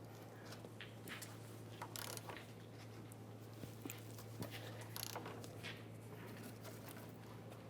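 A torque wrench ratchets on control arm bolts of a 2002-2007 Chevrolet, a run of faint, close mechanical clicks and clacks over a steady low hum.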